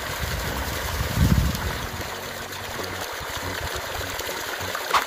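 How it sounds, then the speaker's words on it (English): An irrigation pump moving water from a river, pond or tank to farm fields, a continuous trickling and splashing stream over a low engine hum, with a heavier gush early on. "An irrigation pump moves water from a river, pond, or tank to the fields"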